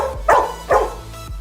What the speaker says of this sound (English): Now you are barking.